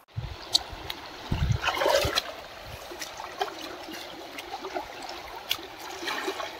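Cold water of the Mandakini river in a forest, splashing and trickling as someone bathes, with a brief louder splash early on, then a steady close flowing stream.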